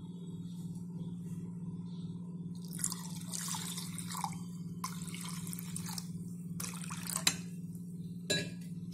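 Water poured into a pot of garlic rasam, a South Indian soup, giving intermittent splashing and dripping bursts over a steady low hum, with a sharper clink near the end.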